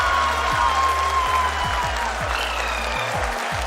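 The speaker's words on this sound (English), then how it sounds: "People are applauding." People applaud the Chandrayaan-3 lander touchdown during a live broadcast: a continuous crowd clapping sits under a steady, tonal broadcast sound and stays at an even level throughout.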